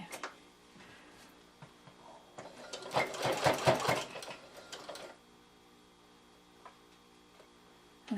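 A domestic sewing machine stitches down the diagonal mitre of a quilt binding, running in a steady rapid burst of needle chatter that swells in the middle and then falls back to quiet handling noises.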